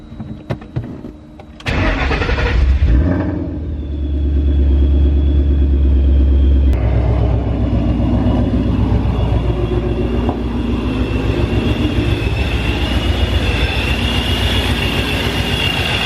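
A Ford Mustang engine fitted with a ProCharger supercharger cranks briefly, catches and settles into a loud, steady idle with a continuous supercharger whine, heard up close with no talking.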